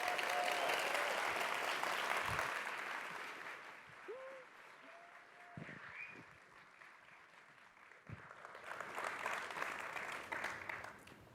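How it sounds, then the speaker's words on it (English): Applause from the audience at a startup accelerator demo day, loud and dense at first, then fading to scattered claps with brief voices, before swelling again toward the end. "So let's give them a big round of applause."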